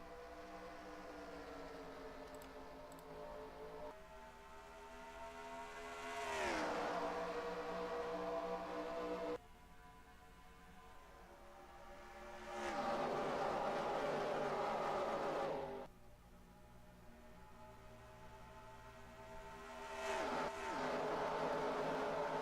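Simulated NASCAR race cars lap Indianapolis Motor Speedway, the Brickyard, in the NASCAR Racing 2003 game: loud engine roars repeatedly swell and sweep past, pitch climbing and dropping with each pass over a constant engine drone.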